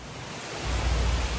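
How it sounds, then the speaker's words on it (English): Heavy rain pours down on a farm as a dense, steady hiss that swells louder partway through and stays constant, with no voices. "the bottom has fell out once again, pouring down rain"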